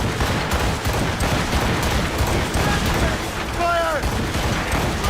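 Ship cannon fire in the video game Assassin's Creed Rogue: dense, continuous booming volleys and rumbling fusillade fill the whole clip, loud and sustained, with a brief whistling tone near the end.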